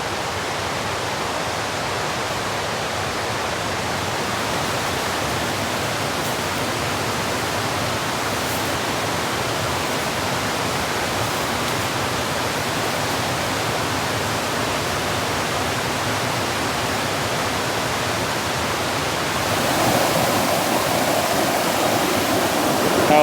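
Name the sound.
alpine stream being crossed on foot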